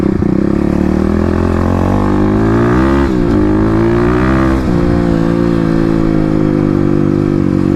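A Kawasaki KLX250 dirt bike is ridden over bumpy ground while its suspension is tested, the engine humming close and loud, rising briefly in revs midway, then settling back to a steady run.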